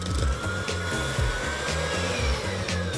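An electric mixer beats batter with egg and vanilla seeds, a close, loud motor whir with rhythmic pulsing as the beaters churn, plus occasional clicks against the bowl.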